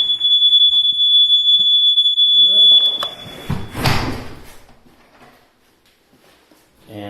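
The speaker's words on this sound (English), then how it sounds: "Probably gonna hear this alarm again." A house alarm sounds inside a waterfront pool home: a steady, piercing high tone holds for about four seconds, then cuts off, leaving a brief nearby voice and some handling noise.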